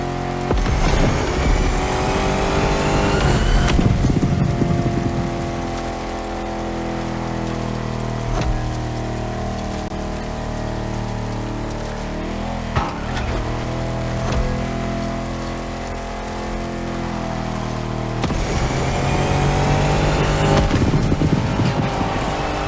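A Jeep Rubicon on huge 33-inch tires drives off-road through a jungle race in The Crew Motorfest, its engine droning steadily with harmonic revving and loud surges near the start and end, mixed with rain-like splashing and rumbling.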